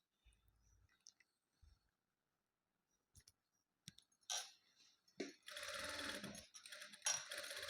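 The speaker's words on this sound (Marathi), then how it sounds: "आता आपल्याला गळा हा पूर्ण शिवून घ्यायचा आहे वरतून टीप मारून" Sewing machine stitching the neckline of a blouse: a few quiet clicks and taps at first, then a dense, steady whirring run of the machine close by that continues to the end.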